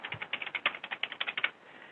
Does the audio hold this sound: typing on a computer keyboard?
yes